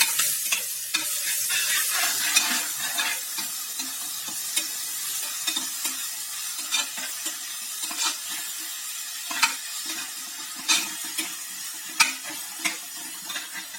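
Ginger garlic paste frying in a pan, a bright continuous sizzle with intermittent spatula scrapes and taps against the metal, close by, loudest at first and settling into a steadier spitting fry, no voices.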